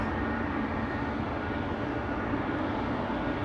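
Air France Airbus A220 jet at Schiphol airport, a steady, moderately distant engine rumble and hiss that continues evenly throughout, with no talk.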